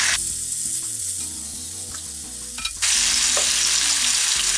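Chicken adobo pieces sizzle and fry in a hot pan, a loud continuous crackle that briefly rises as the pieces are turned, with no voices over it.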